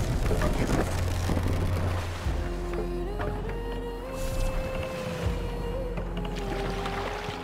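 A Viking longship sails in Assassin's Creed Valhalla, with steady wind and water rush over a low drone and creaking, moaning tones drifting in the background.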